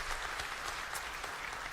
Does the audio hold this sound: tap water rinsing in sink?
no